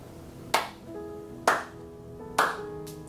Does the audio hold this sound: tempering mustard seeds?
no